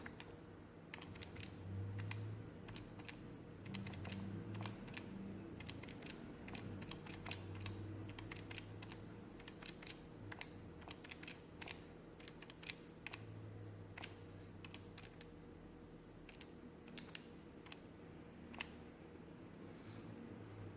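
Keys pressed on an early 1970s Sharp EL805M pocket calculator, a quiet series of sharp plastic clicks in irregular bursts over a faint background hum, close to the listener, no speech.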